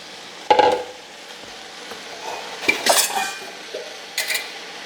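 Chopped ginger, garlic, jalapeno and cilantro tipped into a pot of African peanut stew, with close clinks and scrapes of a utensil against the pot in a few short bursts and a light sizzle, no talking.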